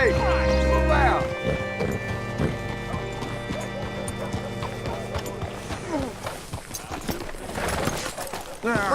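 Horse hooves clip-clop in Red Dead Redemption 2 as a rider arrives at a hitching post: a run of sharp, close hoofbeats that slows and scatters, with someone talking over them.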